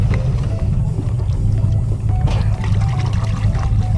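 Fresh water poured for dogs aboard a boat, a close, continuous splashing trickle running for several seconds over a low motor-like hum.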